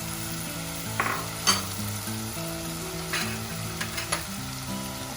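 Prawns sizzle in a hot pan with canned button mushrooms, a steady crackling fry running throughout while music plays over it and a few brief clinks and scrapes of stirring break through.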